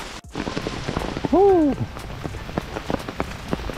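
Heavy rain pours down on a hiking trail, a dense, steady hiss of drops hitting the ground and gear at close range, with a person's short exhalation and a brief vocal sound partway through.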